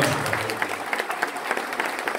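Concert audience clapping at a show in Ecuador, a loud, continuous crackle of many hands with sharper individual claps standing out across the short stretch.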